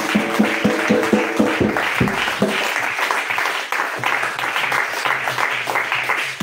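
Church congregation applauding and cheering for the Lord, rhythmic hand claps at first that swell into loud, sustained mixed clapping and cheering from a large crowd close by, with voices shouting throughout.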